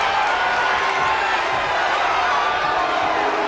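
A dense crowd roars and cheers steadily in a wrestling video game arena as Sheamus works the audience, a continuous wash of noise with scattered whoops and faint talk woven through it.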